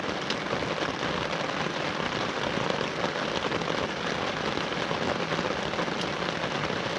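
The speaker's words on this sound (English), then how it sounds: "The rain's serious here." Heavy rain pours steadily at a campsite, a dense, continuous hiss of drops drumming on surfaces close by, with no talk over it.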